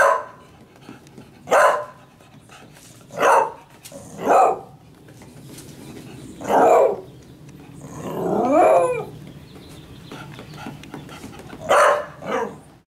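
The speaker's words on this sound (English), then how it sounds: "Dog." A dog barks repeatedly in spaced bursts, about seven or eight sharp barks with a rougher growly stretch in the middle, close and fairly loud.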